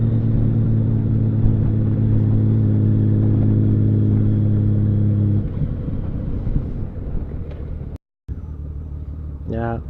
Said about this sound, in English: Honda does make a smooth bike. It shifts smooth, it revs smooth.